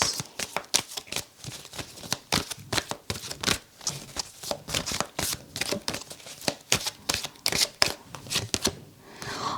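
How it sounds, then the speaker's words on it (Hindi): Tarot cards being shuffled by hand in a reading setting, a dense run of quick crisp riffling flicks and snaps close to the listener, fairly steady throughout with no voice over it. "ओके, थोड़े से और कार्ड्स लेंगे यहाँ पर।"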